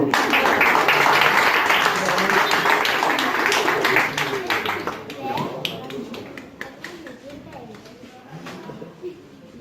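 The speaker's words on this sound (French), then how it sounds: "Voilà, on peut l'applaudir." A campground audience applauding after a stage act, dense clapping that starts loud and thins out to scattered claps as a voice talks over it.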